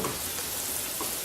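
Garlic frying in a pan with salt ahead of radish hashbrowns, a dense, even hiss of sizzling oil throughout, close and steady with faint crackles.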